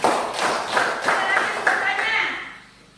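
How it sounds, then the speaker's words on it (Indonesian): A classroom of pupils claps for a classmate in quick rhythmic unison bursts, loud and close, with young voices mixed in before the clapping fades out near the end. "beri tepuk tangan untuk temannya"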